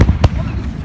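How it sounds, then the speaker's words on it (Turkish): A bomb explosion in Istanbul's Beşiktaş district on 10 December 2016 comes through as brief, sharp booming bursts amid background noise, with voices nearby. "Kanka bir şey patladı"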